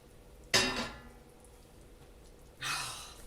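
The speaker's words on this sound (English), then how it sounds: "So we're going to add our frozen green beans. We're going to give that a little stir." Frozen green beans are tipped into a pot of chicken curry and stirred: a brief clattering rush as they land, a quiet pause, then a second scraping, rustling stir of the spoon, close and moderately loud, with no voices.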